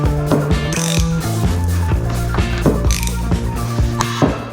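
Bearing puller being tightened on a VW T4 Syncro propshaft, a steady loud ratcheting and grinding of metal with repeated clicking and creaking, close up.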